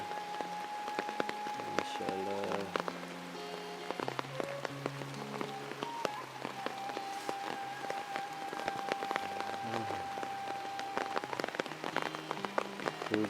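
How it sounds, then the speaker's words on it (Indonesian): Heavy rain pours steadily onto a village, a dense, even patter of drops on surfaces that continues without a break. "Benar-benar cuaca teh hari ini mah hujan."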